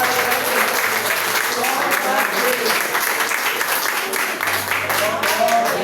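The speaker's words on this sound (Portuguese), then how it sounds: "E as palmas louvam o Senhor." A church congregation at a Sunday service claps together in loud, dense, continuous applause that fills the space evenly from start to finish.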